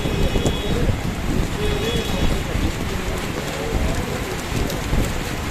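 Heavy rain falls with thunder over a flooded street in front of an office in Naya Paltan, Dhaka. A steady, loud hiss of downpour rushes on without pause, with low rumbles beneath.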